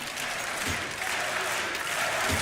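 Arena crowd applauding at a DreamHack Masters Counter-Strike semi-final between Ninjas in Pyjamas and GODSENT, a dense steady wash of clapping and cheering throughout, with a commentator's voice faintly mixed in.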